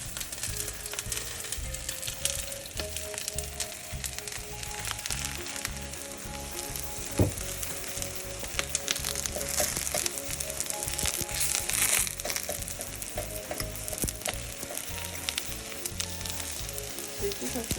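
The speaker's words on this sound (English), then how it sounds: "I haven't fried my eggplant in a while, but it looks like it needs a little bit more oil." Sliced eggplant frying in oil in a pan, a steady close crackling sizzle running throughout, with occasional scraping and crinkling bumps as pieces are moved.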